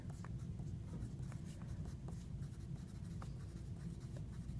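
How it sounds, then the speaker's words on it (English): Steady scratching of a pen or pencil writing on paper in an art class, close and continuous with small rhythmic strokes and no talk over it. "This top line you're going to write your toy name on"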